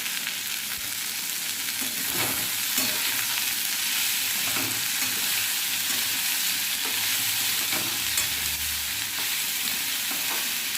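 Chopped chilies and onion tossed into potatoes frying for a chana mixture snack, giving a steady loud sizzle with scattered pops and scraping stirs throughout, no voices.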